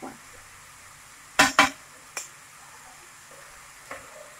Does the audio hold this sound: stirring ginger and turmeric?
yes